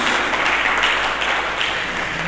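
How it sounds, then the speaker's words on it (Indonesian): A church congregation applauding loudly and continuously, dense clapping filling the whole stretch with steady intensity. "Berikan tepuk tangan yang meriah bagi Yesus Kristus."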